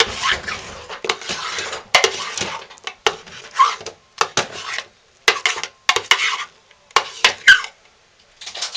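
A long, skinny metal spoon scrapes and clanks around inside a pot of hot-process goat's milk lye soap with honey, in irregular close strokes separated by brief pauses.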